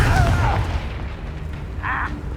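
A Confringo blasting spell going off in the Hogwarts Legacy video game, one deep booming explosion up front that fades into a rumbling tail, with a brief bright magical flare near the end.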